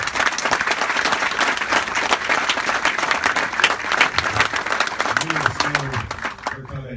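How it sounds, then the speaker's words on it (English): Applause rolls through the crowd at a Marine Corps post and relief ceremony, a thick, sustained clapping that stays loud for several seconds, then thins as a voice comes in near the end. "so a round of applause."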